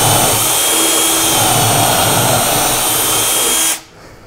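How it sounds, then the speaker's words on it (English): A power drill whirs continuously at high speed for several seconds while drilling a pocket hole with a Kreg K4 jig, loud and close, then cuts off abruptly, leaving a quiet room. "now we have our hole drilled out"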